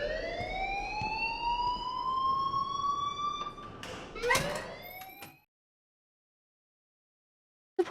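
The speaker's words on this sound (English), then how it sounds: "please turn off that alarm since that's your job" A school alarm rings in a steady, rising electronic tone, loud and alone, then cuts off with a couple of bangs and a short burst of noise before silence.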